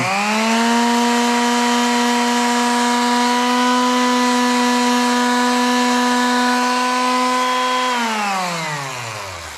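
Power sander running on a wooden phone stand with 220-grit paper, a loud steady motor whine that holds constant before winding down near the end.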